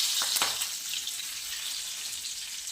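Mustard seeds and cumin sizzle in hot oil in a pan, a steady close hiss with faint crackles and a few early pops, heard alone.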